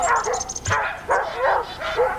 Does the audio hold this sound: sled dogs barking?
yes